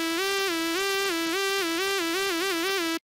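Synthesized lead guitar solo built in FL Studio 12 with legato switched on, a single sustained tone gliding smoothly between pitches with gentle vibrato for about three seconds before stopping abruptly, loud and alone with no talking.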